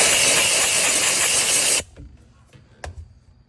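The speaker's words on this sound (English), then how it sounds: "Steamer, a little bit of steam." A loud, close hiss from a steam cleaner blasts for almost two seconds while cleaning a 1966 Chevy Impala interior, then cuts off abruptly, leaving a few soft clicks and knocks.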